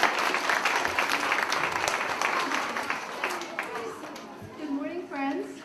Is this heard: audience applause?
yes